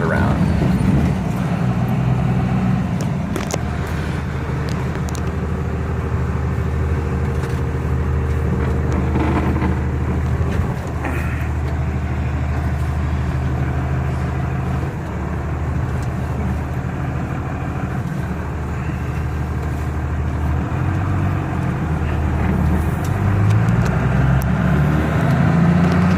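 Truck engine fitted with an HE351VE variable-geometry turbo pulling in third gear, a steady, loud low drone with broadband road and turbo noise that holds throughout, no talking.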